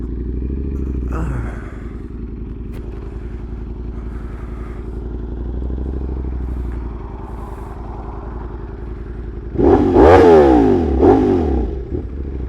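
A Ducati motorcycle engine idles steadily with a low, loping rumble, then revs up sharply in a couple of rising and falling bursts near the end, close and fairly loud.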